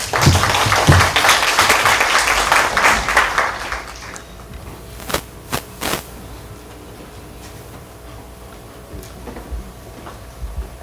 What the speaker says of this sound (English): And now, the biggest applause to welcome President Qingrong Liao to give us some few words.